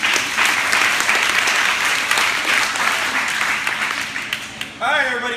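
A fitness club group at an orientation event gives a steady round of loud applause lasting several seconds, ending in a short burst of voices.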